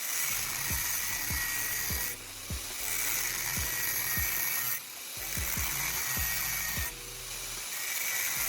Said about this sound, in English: I'm using an angle grinder to create diamond shapes to generate friction on the tool.